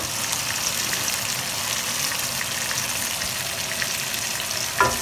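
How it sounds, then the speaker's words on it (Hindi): Frozen minced meat sizzles steadily in spiced masala in a pan while cooking Pakistani qeema aloo, a dense, continuous frying hiss with one brief clatter near the end and no talk. "मैं इसमें डालूँगी तकरीबन 1 पाउंड कीमा। मेरे पास फ्रोज़न कीमा है"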